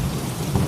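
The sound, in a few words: heavy rain and thunder in cartoon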